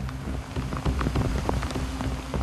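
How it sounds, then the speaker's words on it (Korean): Sudden downpour in the mountains of Shangri-La, Yunnan, with heavy rain pattering densely on surfaces close by, a continuous wash dotted with sharper drop hits and no voices. "갑자기 비가 쏟아지기 시작했다."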